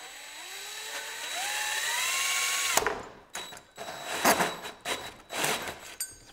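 A drill drives a sharp hole saw through material, first whining as it spins up, then grinding and biting in loud uneven bursts as the teeth cut, close up with no talking.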